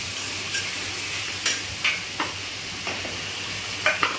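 Vegetables fry in a pan for paneer biryani with a steady, close sizzle, broken now and then by soft scraping stirs and light clinks. No voice.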